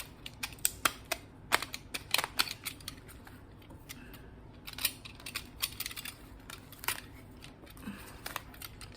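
Roots of a pot-bound cactus being cut during repotting: sharp, irregular snips and crisp clicks close by, scattered over a quiet background with no talking.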